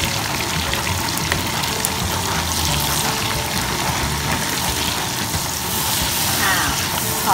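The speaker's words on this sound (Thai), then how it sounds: "เราจะทอดหอมก่อนนะคะ" Chopped large onions frying in hot oil in a wok for a vegetarian curry-powder stir-fry, giving a loud, steady, even sizzle and hiss throughout.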